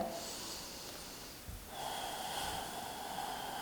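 A person taking a breath during yoga, two long, close, airy breaths, an inhale then an exhale, alone without speech.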